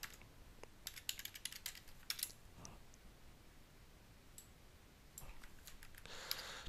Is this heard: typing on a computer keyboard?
yes